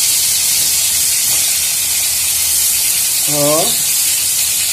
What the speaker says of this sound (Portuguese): vamos dar uma selada na carne